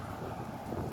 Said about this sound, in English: Nice breeze.